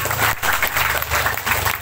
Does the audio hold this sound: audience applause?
yes